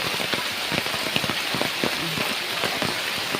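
Steady rain pattering on a surface outdoors at a home garden where heavy drops knock fruit from the trees, a dense continuous hiss with scattered close drips, no voices.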